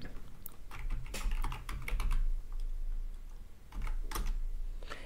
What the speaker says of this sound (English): then you enter your password